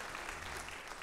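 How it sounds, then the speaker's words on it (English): A short burst of faint, steady applause from a youth camp audience. "Let's give them a round of applause"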